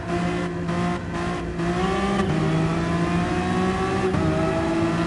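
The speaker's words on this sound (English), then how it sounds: "Sounds good in this tunnel with all these cars in it." A pack of race cars in GT Sport accelerates through a tunnel, with engines droning and revving in steady layered tones that rise in pitch. The sound is loud and continuous, with no voices over it.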